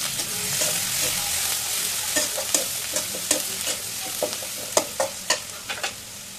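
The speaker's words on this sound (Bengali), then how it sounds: "প্রথমে পেঁয়াজ কুচিটা দিয়ে একটু ভেজে নেবো।" Chopped onion frying in hot oil with a little cumin, a steady broadband sizzle running throughout, with sharp crackles and spatters popping more often toward the end.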